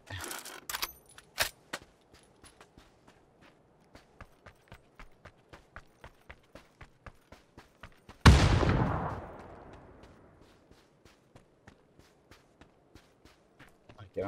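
Gunshots in PUBG: a few sharp close shots at the start, then a loud blast with a long decaying tail midway, surrounded by steady rhythmic footsteps crunching along.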